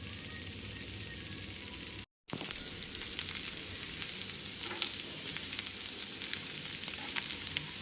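A sooji rava dosa crisps on a hot pan over low flame, giving a continuous sizzle with fine crackling pops that thicken after a brief dropout early on.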